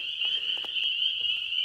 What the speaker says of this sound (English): So listen to them frogs, will you?